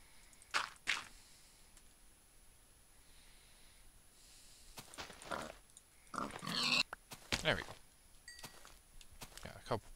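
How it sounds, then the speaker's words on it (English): A pig in a video game gives several short snorting grunts in scattered bursts, some close together, over a quiet background hum. "that probably is just a pig"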